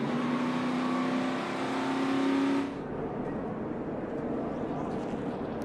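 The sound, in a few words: NASCAR Xfinity race cars in a multi-car crash at Talladega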